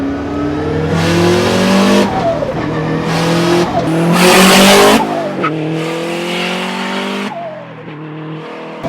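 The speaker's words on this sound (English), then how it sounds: "It's all-wheel drive and it's spinning the tires." A 1996 Subaru WRX STI Type RA with all-wheel drive spins its tires on a cold road, the engine revving hard through loud rising harmonic sweeps with squealing tire noise, close and continuous, with shifts between pulls.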